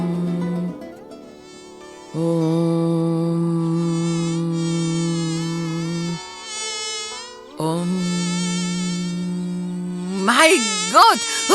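Mosquitoes drone loudly and steadily in a high whine during an insecticide advert. The buzzing drops out briefly twice and then rises into wavering swoops near the end.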